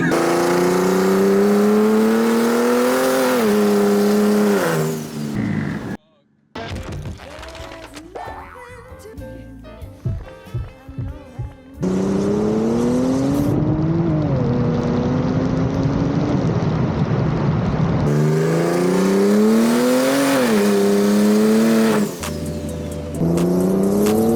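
A big-turbo BMW 335i accelerates hard through the gears. The engine note climbs in rising sweeps, breaks off briefly at each shift and climbs again, loud and close, with a short lull of whooshing turbo and road noise in the middle.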